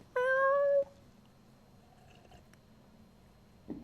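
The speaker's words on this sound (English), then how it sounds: "Big old meow." A single loud, drawn-out cat meow near the start, followed by quiet room sound and a faint thump at the end.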